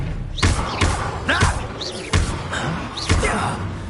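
Expelliarmus spell casts in Hogwarts Legacy, a rhythmic series of about five punchy bursts, each a sharp thud with a bright swishing sweep, mixed with brief vocal cries.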